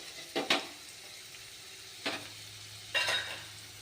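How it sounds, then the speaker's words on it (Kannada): Onions and cashews frying in a pan, heard as three separate bursts of sizzling scraping as they are stirred, with quiet gaps between and no one talking. "ಗೋಡಂಬಿ ತಗೊಂಡು ಈರುಳ್ಳಿ ಫ್ರೈ ಮಾಡ್ಕೊಕತ್ತೀನಿ."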